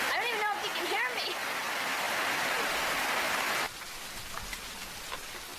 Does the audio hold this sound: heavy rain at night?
yes